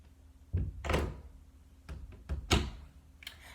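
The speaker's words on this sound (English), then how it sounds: "You heard me close my door, right?" A bedroom door is pushed shut with a solid thump and a short latch click, followed by a few softer knocks and handling sounds nearby in a quiet room.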